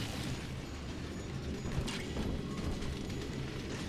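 Elevator machinery in the video game Bioshock 2, a continuous low mechanical rumble and hum with faint clanks and creaks, steady and moderately loud, no talking over it.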